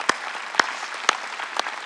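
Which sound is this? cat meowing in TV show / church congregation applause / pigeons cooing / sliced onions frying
church congregation applause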